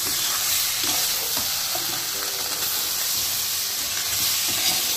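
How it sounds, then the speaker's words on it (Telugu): Boiled potatoes frying in hot oil for aloo methi curry, a loud, constant sizzle and hiss close up with faint scrapes of stirring, and no talk over it. "ఆలు వేసుకొని 1-10 మినిట్స్ ఫ్రై చేసుకోవాలి."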